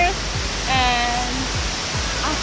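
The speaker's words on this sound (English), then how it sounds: "So these are the hidden waterfalls, which we are visiting first" Hidden waterfalls near Sekumpul in North Bali roar as a steady, dense rush of falling water, loud and close, with a person talking over it.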